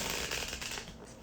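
Tarot cards are shuffled close up, a quick papery riffle of flicks and slaps lasting about a second before fading out.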